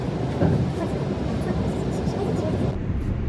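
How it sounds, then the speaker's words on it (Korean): Steady rumble of a train carrying passengers home in Australia after a day of trekking in the Blue Mountains, a dense low rolling noise with faint rattling running unbroken throughout. "이제 기차 타고 다시 집으로 가고 있습니다"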